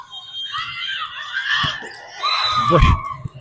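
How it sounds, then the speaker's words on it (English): Members of a youth volleyball team at an 18U nationals match shout together at a player, producing a short burst of overlapping high-pitched yells in an indoor gym. "I think the whole team shouted at once."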